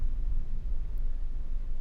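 A steady, deep low-frequency rumble with a constant hum, like the enclosed drone of a spaceship interior, continuous and unchanging throughout.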